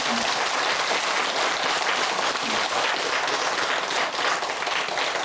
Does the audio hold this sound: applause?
yes